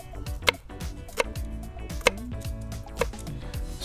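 A knife chopping through a vegetable on a cutting board, with about four sharp, spaced knife strikes over a low background hum and no talking.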